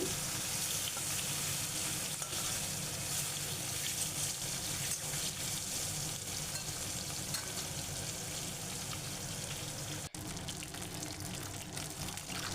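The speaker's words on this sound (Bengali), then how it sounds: "মাছটা ভেজে নিচ্ছি এখন।" Katla fish pieces fry in hot oil in a kadai, producing a dense, continuous close-up sizzle that stays at an even level throughout, with faint stirring and no voices.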